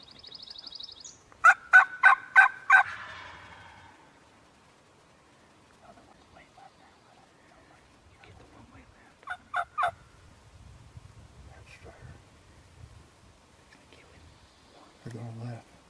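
Wild turkeys gobble on South Carolina public land during a spring hunt, a loud rattling burst of gobbles followed later by a second fainter one, with hushed whispering between.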